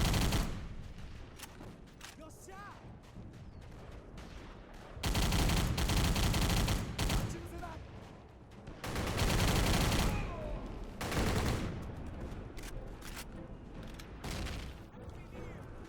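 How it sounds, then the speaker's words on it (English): Automatic weapon gunfire rattles through trench combat in a World War II shooter video game, with loud sustained bursts and shorter volleys spread across the scene, dense and continuous with no speech. "I'm picking up the automatic weapon as it's great for fighting in the trenches."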